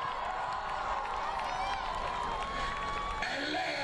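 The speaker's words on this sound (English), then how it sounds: "Big round of applause for them." A school assembly crowd cheers and applauds after varsity girls swimmers and club co-presidents are introduced, a dense steady wash of clapping, whoops and shouting voices that holds at full level throughout.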